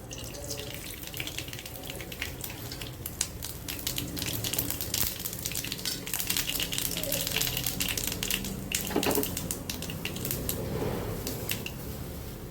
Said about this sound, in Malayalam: കടുകിട്ട് പൊട്ടുമ്പോൾ